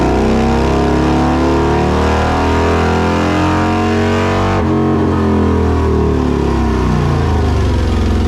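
A Harley-Davidson Milwaukee-Eight V-twin motorcycle engine revs loudly and close through an aftermarket exhaust, rumbling low with a choppy, uneven note that rises and falls across several throttle blips.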